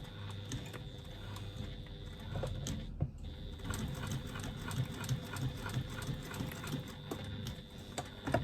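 A sewing machine stitches the lining of a retro clutch bag, its needle hammering in a fast, even mechanical rhythm close by, with a brief pause partway before the run resumes.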